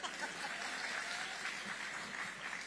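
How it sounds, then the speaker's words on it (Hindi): An audience at a literary festival talk claps together in sustained, even applause, heard from a moderate distance with steady density and no talk over it. "बजाओ, ताली बजाओ।"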